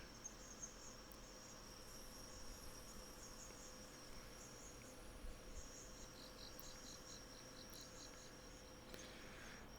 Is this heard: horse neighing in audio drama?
no